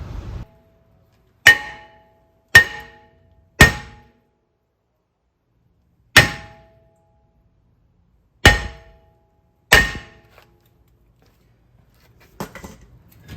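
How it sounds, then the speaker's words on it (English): Six sharp metallic hammer blows strike a Toyota Highlander brake rotor to knock it loose, ringing out at uneven intervals, loud and close, each followed by a brief clanging decay, then faint rattling. "I had to hammer it to knock it loose."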